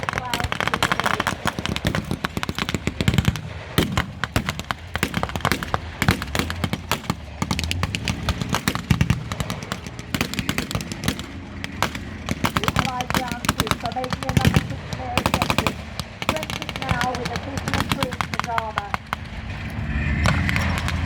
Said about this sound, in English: As the artillery lands, smoke clouds release.